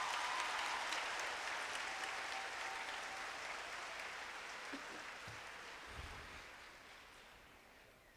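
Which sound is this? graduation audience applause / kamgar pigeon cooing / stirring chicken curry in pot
graduation audience applause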